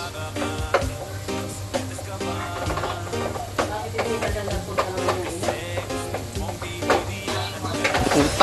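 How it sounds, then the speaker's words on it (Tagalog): Garlic frying in a pan until browned, a steady hiss of sizzling oil under scattered stirring scrapes and utensil clinks against the pan, continuous and close. "Let's make it really brown yung bawang natin para it's more delicious and more smell good."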